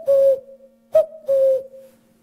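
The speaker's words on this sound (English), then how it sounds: "Cuckoos arriving and heralding spring." A common cuckoo calling in spring, giving three clear, close two-note 'cuck-oo' phrases in a slow, even rhythm against an otherwise quiet background.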